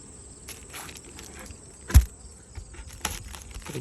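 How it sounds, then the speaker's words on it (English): Honey bees from a strong hive hum softly in an open hive box during a September check in Michigan, a steady faint buzz with a brief knock and light handling noises. "It's a good box of bees."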